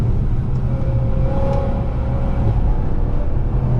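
A 449bhp BMW M3 saloon drops down through the gears. Its engine roars loud and steady from inside the cabin with a slight rise in pitch midway, and no one speaks.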